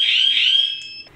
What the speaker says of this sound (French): si quelqu'un essaie d'ouvrir votre porte, automatiquement, il y aura l'alarme qui va sonner